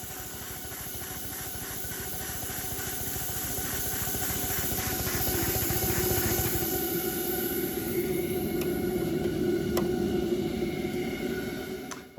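A 7.5-inch gauge 0-4-2T steam locomotive, just fired up, runs with a steady rapid chuffing and hissing steam, loud and close, with a constant high whistle-like tone throughout and a couple of sharp clicks near the end.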